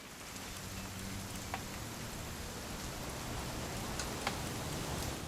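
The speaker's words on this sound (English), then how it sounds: "It's gonna rain the whole weekend, isn't it?" Steady rain falls in the video game What Remains of Edith Finch, a constant hiss of drops on surfaces with a few brief louder patters, no talking.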